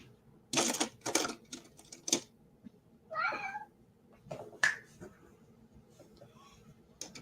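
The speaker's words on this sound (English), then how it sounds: "I don't know why he has suddenly decided that pawing at the TV screen is a wonderful thing." A cat paws at a TV screen, making sharp, close tapping and scratching clicks in short uneven bursts, with one brief meow in the middle and no talking.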